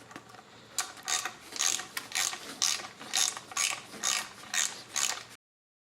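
A ratchet clicks in about seven quick bursts as it snugs down the thermostat housing bolts on a Jeep, close and crisp with no talk, then stops abruptly.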